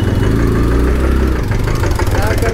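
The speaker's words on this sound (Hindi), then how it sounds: "छोटा सा ट्रैक्टर।" A small tractor engine runs close by with a steady low, throbbing idle that continues unbroken for the whole stretch.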